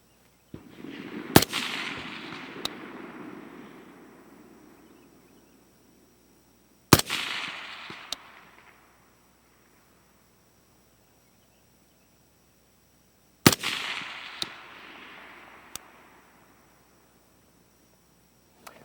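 A suppressed rifle fires 5.56 rounds in a three-shot group from the prone position on a range, three sharp cracks spaced several seconds apart, each with a fading rumble behind it.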